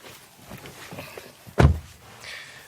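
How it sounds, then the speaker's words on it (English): Rear door of a SEAT Tarraco seven-seat SUV opens with a single sharp mechanical clunk of the latch, close and loud, following faint handling noises. "that's accessed through these wide opening doors"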